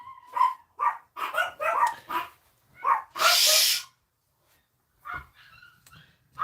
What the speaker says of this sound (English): Sorry, dogs are going.